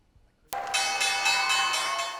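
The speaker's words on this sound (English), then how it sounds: "Despite the usual closing bell cheers, many investors seem nervous." A stock exchange closing bell strikes suddenly out of near silence and rings on as a loud, sustained metallic clang with a pulsing shimmer, heard alone without audible crowd noise.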